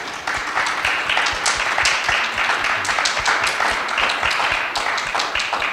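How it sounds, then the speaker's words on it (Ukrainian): Audience applause at a film screening event in Kharkiv, a dense, even wash of clapping that holds steady for several seconds. "давайте ще раз оплесками"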